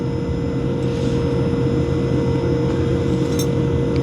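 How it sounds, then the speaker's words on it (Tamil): Airplane taking off, heard as a continuous loud engine drone with a steady humming tone for a few seconds, no speech over it. "இங்கே அங்கே ஒரு ஃப்ளைட் ஒன்று போகுது டேக் ஆஃப் ஆகிற."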